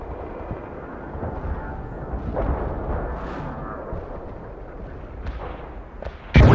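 Heavy artillery barrage in a war video game: a low rumbling roar with scattered booms and cracks, building midway and ending in one sudden loud close blast.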